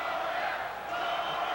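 At a boxing match in the Halifax Metro Centre, an arena crowd chants and cheers for a fighter, a dense sustained roar of many voices filling the hall at a steady level.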